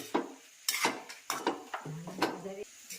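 A spoon scrapes and clanks against a pan while batata poha, flattened rice with potatoes, is stirred, giving irregular metallic knocks and scrapes with faint background voices.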